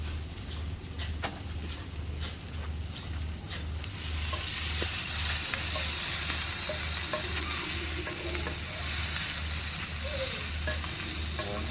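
Onions and tomatoes sizzle steadily on a small grill at a beach house build site, a continuous frying hiss that swells louder partway through, with a low rhythmic hum underneath and scattered faint clicks.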